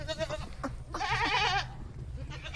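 A goat bleats loudly once in a long, wavering call, with shorter bleats and animal sounds around it nearby, at a farm in Hari Ke Kalan village, Sri Muktsar Sahib, Punjab.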